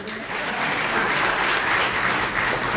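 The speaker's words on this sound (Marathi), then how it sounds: "एकदा त्यांच्याकरता टाळ्या वाजवा." An audience at a bank branch inauguration breaks into steady, moderately loud applause that holds for a few seconds.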